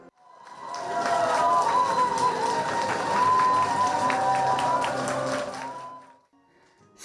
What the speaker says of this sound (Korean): 객석에서는 박수와 환호가 터져 나옵니다.